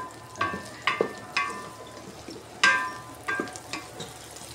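Food cooks in a rice cooker while a utensil knocks and scrapes the pot in a run of sharp, close clinks, with a soft bubbling, sizzling bed underneath.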